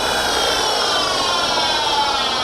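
CNC bed mill spindle on a TRAK 3-axis machine spinning at about 2200 RPM in the high range, giving a steady, loud whine with layered tonal hum and no speech.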